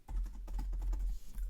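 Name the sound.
typing on a computer keyboard in a note-taking app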